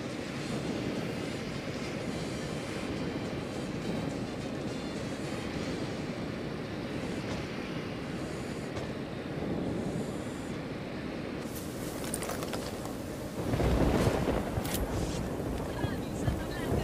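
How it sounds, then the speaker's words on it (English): Deployed recon drone from Ghost Recon Wildlands flies with a steady, continuous mechanical hum and whir, holding level for long stretches before a louder surge of noise near the end, with game ambience underneath. "Deploying drone."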